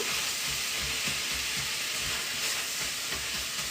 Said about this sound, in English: I'm gonna give this a nice stir.